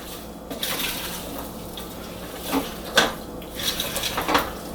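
A spoon scrapes and clinks in a bowl of oatmeal stuffing with salt and pepper, several sharp taps and scrapes over a soft background, close by.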